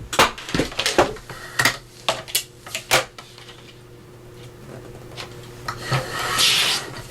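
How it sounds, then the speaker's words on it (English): A paper cutter trimming the flap of a vellum envelope, a cluster of sharp scraping clicks and rubbing strokes, close and fairly loud, followed by quieter handling of the paper. "So I'm going to go and reach over to my cutter and just trim that piece off."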